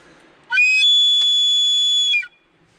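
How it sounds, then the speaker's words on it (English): A handmade survival whistle blown hard gives one loud, steady, piercing tone lasting under two seconds, with sharp start and stop and quiet around it. "hard flow of air gets it like a whistle sound"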